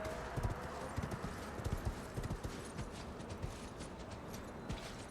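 Horse hooves clip-clopping at a steady gallop in Elden Ring, rhythmic and fairly quiet, moving through ruins against faint game ambience.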